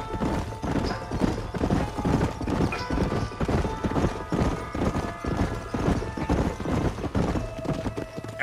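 Horses' hooves clip-clop steadily in a rapid, even rhythm as riders travel in the Red Dead Redemption video game, loud and continuous for the whole stretch with a faint musical tone underneath.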